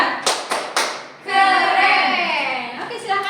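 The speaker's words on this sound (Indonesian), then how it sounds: "tepuk hebat tahu? Tepuk hebat." Classroom of children doing the rhythmic 'tepuk hebat' clapping chant: three sharp claps, then a group of young voices chanting together loudly and close.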